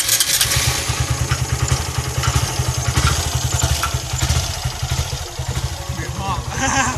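Motorcycle engine with an aftermarket cam running with a steady low throbbing rhythm and revving surges, close and loud, with some clattering and talk mixed in.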